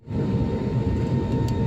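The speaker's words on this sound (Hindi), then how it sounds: "चल पड़ा है हमारा पुष्पक विमान, थोड़ी देर में ये होगा आकाश में" A passenger airplane begins rolling along the runway on a Hyderabad to Lucknow flight, heard from inside the cabin as a steady, loud low engine roar and rumble with a faint tonal hum.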